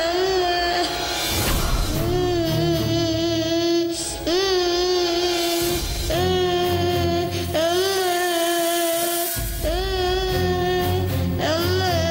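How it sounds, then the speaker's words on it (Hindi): A baby's wailing cry sounds in a horror film scene, loud and sustained in long quavering bursts with brief breaks, heard alone without any talking. "तुम्हें किसी बच्चे के रोने की आवाज सुनाई दे रही है?"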